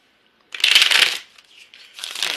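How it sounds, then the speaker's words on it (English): Tarot cards are shuffled in two quick, close riffling bursts separated by a short pause, with crisp flutters and soft taps. "I'm shuffling the cards."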